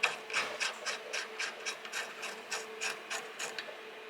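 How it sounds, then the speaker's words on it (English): A hand ratchet clicks through a run of about a dozen quick, even strokes while parts are bolted up on a Ford Escort Mk2 rally car under restoration. The sound is close, clear and heard alone, with a light metallic rasp. "So we're gonna bolt it up, have a look, see what we got,"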